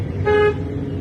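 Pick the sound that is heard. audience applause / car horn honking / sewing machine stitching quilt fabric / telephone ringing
car horn honking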